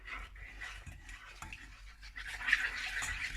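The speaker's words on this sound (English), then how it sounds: "You give it a little stir" A spoon stirs cold milk into maize meal for sadza or porridge, giving a steady, soft, swishing scrape that runs continuously without any talking.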